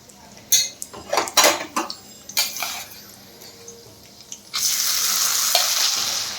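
Metal utensils clatter and scrape against a pan in several sharp bursts, then soaked rice with cashews and raisins hits the hot oil and a loud, steady frying sizzle starts and holds to the end.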